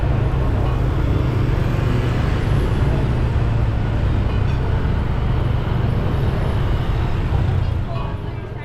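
A car drives through busy street traffic on Raya Legian Street in Bali, and a dense, steady roar of engines and road noise fills the scene throughout.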